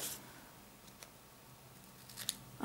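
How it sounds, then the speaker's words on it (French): Quiet room tone broken by a few small, crisp snips of small Teflon scissors, a light click early on and a quick cluster of cuts near the end. "Ils sont où mes petits ciseaux en téflon?"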